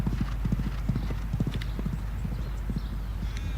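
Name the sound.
horse hooves clip-clopping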